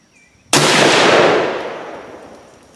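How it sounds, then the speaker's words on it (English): A rifle fired with a load of 41 grains of Ramshot TAC powder, a single loud sharp blast up close that rings out and decays over about two seconds, no talk. "So now we'll shoot 41 grains."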